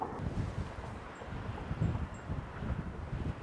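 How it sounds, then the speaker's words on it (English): Cold wind buffets the microphone on a cliff edge at a lookout, a rough, gusty low roar that rises and falls for a few seconds. "This wind is bitter"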